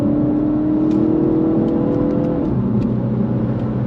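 A 2024 Mini Cooper S hatchback engine revs under full throttle toward its 6,500 RPM redline, a loud, steady mechanical drone that climbs in pitch and then settles, with no voices over it.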